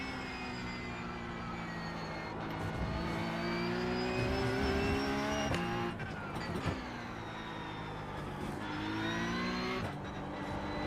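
Porsche Cup race car engine in the iRacing sim, loud and steady with high revs, rising and dropping as it shifts gears and brakes through corners, with occasional tire squeal.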